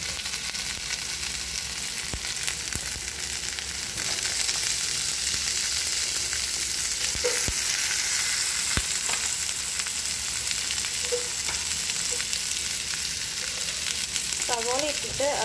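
Onion frying in a pan, heard as a steady, dense sizzle that runs throughout at close range, with a few faint knocks and brief scraping near the end.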